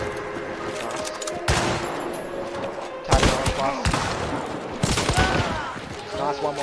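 Gunfire in the video game Hunt: Showdown, several sharp shots cracking out over a few seconds amid background game noise, with a player talking over it.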